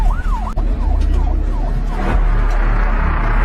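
Ambulance siren wails in loud rising-and-falling sweeps, then fades into a rushing vehicle and traffic roar.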